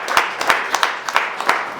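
An audience claps for a minister, with several sharp, evenly spaced claps from a small group close by and no voices over them.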